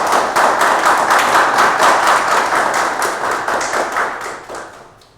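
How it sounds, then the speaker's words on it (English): Applause at a corporate sustainability report launch, a steady, fairly close round of clapping from a small audience that holds for several seconds and then gradually fades out. "I can hear the sound of applause"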